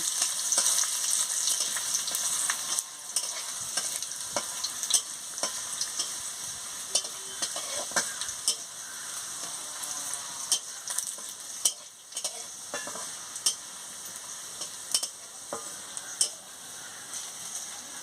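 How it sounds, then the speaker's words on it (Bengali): Garlic frying in oil in a wok gives a continuous soft sizzle broken by frequent sharp clicks and scrapes of a spatula stirring, close up with no voices. "রসুনটা দিয়ে ভালো করে ভেজে নিচ্ছি"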